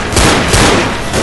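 A burst of loud, rapid gunfire in the video game Left 4 Dead, several cracking shots in quick succession filling the short moment.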